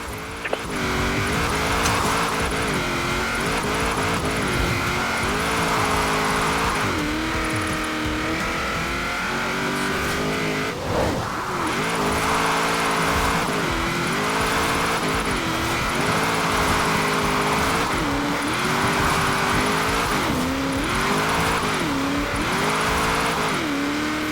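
Race car engine in Forza Horizon 4 revving and rising and falling in pitch through drifts, loud and continuous with repeated acceleration sweeps and faint tire squeal, no voices.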